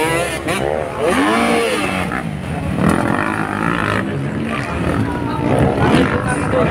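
A KTM enduro motorcycle in a qualifying race rides close by, its engine loudly revving and roaring with rising and falling pitch over several seconds, with voices mixed in.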